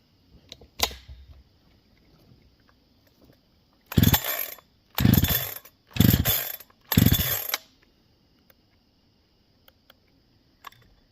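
Four quick rasping pulls of the starter cord on a Holzfforma G372 XP chainsaw come in an even rhythm, close and loud, without the engine catching, with a faint click before and after.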